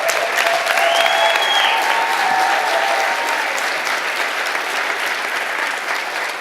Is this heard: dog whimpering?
no